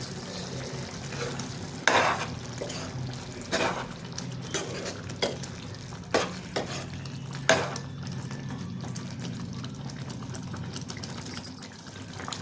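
Andhra-style gongura chicken liver curry simmers and sizzles in a pan while a spatula stirs and scrapes it, sending sharp metallic clinks over a steady bubbling hiss.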